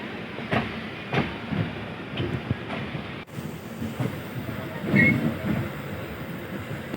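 An express passenger train from Mau to Anand Vihar runs along the track near Sahibabad, a steady rumbling rush with periodic wheel thumps and wind noise, heard from on board.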